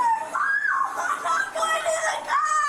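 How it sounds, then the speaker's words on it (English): A young girl screams and yells loudly at home, a continuous high-pitched shrill wail with rising and falling pitch sustained for several seconds. "You see how she's screaming and yelling?"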